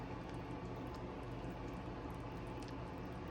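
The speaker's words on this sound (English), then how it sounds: "the beans have been simmering" Beans simmer in a pot of boiling water, giving a faint, steady bubbling hiss with small soft pops, heard alone and without voices.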